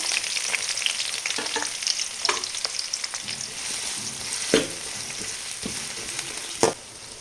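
Sliced garlic and long-cut onions frying in a pan for mushroom fried rice, a continuous hiss of sizzling oil broken by scraping stirs and a couple of sharp utensil knocks near the end.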